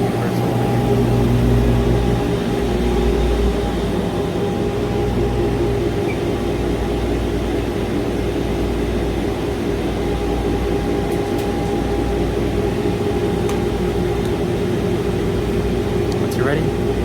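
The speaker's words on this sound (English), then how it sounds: "The vacuum is now pulling from the universal emitter." A Universal Laser engraver's vacuum exhaust runs in a steady, loud broadband whoosh with a low hum, continuous throughout with no speech, a few faint clicks near the end.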